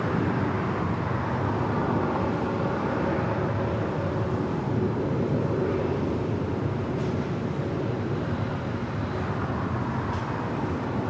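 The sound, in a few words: Air Canada Boeing 737 MAX 8 departing LAX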